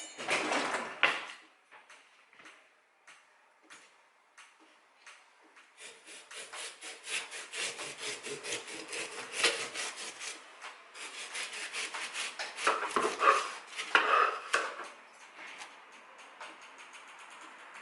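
A knife cuts up a watermelon for strawberry and watermelon wine, giving quiet, close rubbing and slicing strokes in uneven bursts with short pauses between them.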